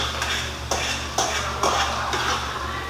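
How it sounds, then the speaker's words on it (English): Seasoned ground beef is stirred in a pan, with a spoon or spatula scraping and knocking against the metal in several irregular strokes over a steady low hum. "Stir it."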